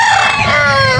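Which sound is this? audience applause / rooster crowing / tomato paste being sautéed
rooster crowing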